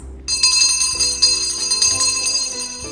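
Bell-like tones ring out for a Ukrainian school's First Bell day celebration, a bright sustained chiming that starts after a brief silence and carries on steadily with no talk over it.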